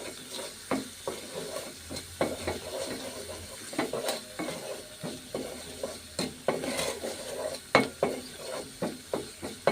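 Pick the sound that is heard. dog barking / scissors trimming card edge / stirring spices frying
stirring spices frying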